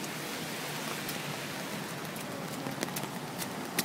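Steady rain falls across a downtown San Francisco street as a dense, even hiss, with a few sharper drips and splashes close by. No voices are heard.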